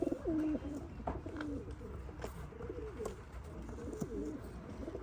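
Racing pigeons coo in a loft, a steady string of low, rolling coos close by, with a brief bump of handling noise at the start and a soft background hiss.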